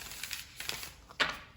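Tarot cards are shuffled up close in a few quick, light riffling bursts with a sharper flutter near the end, separated by brief quiet gaps.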